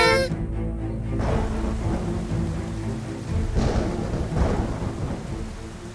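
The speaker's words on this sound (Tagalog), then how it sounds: "Umuulan ng malakas mula pa kahapon" Heavy rain pouring steadily with rumbles of thunder rolling through, loud and continuous, with a deep low roar underneath and a couple of swelling crashes later on, no voices.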